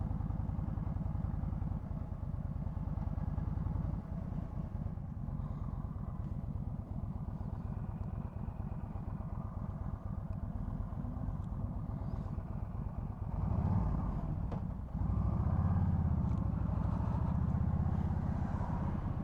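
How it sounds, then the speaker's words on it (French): A Yamaha XVS 1300 Stryker V-twin motorcycle engine idles steadily while warming up, with a low, lumpy rumble, close and continuous, with a slight surge in the last few seconds. "Je vais faire du surplace exprès pour faire chauffer le moteur pour voir ce que ça donne."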